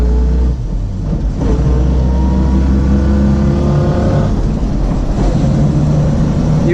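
A 1970 Volvo 145S car on the move, its carbureted engine revving and accelerating loudly with rising tones, a brief dip in power early on before pulling strongly again.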